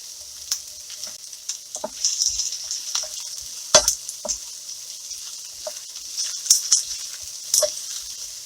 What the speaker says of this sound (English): We love that sizzle.